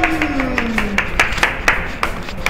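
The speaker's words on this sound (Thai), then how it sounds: "ขอเสียงปรบมือดังๆให้กับ คุณแอดมินซาวอน" An audience at a live event claps steadily, a moderate patter of many hands, with a faint tone sliding down at the start.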